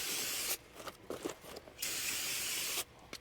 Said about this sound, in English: So we'll take some brake clean, spray it down.